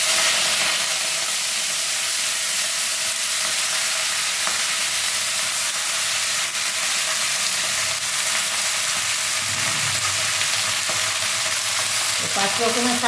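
Mixed leafy greens frying in a pan, a loud, continuous close hiss of sizzling and steam that holds steady throughout, with faint stirring underneath.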